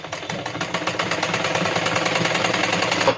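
A sewing machine stitches a blouse with a fast, even mechanical chatter that runs continuously at close range.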